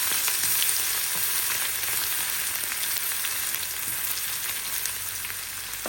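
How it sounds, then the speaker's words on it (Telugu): Ginger garlic paste with turmeric and curry leaves frying in hot oil, a steady close sizzle that holds continuously and evenly throughout with no talking. "కొంచెం పసుపు, పెట్టుకున్న అల్లం వెల్లుల్లి ముద్ద ఇవన్నీ బాగా ఫ్రై చేసుకోవాలి."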